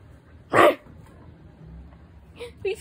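A human voice imitates a dog barking, giving one short loud bark near the start followed by a couple of faint yips toward the end, with quiet room noise between.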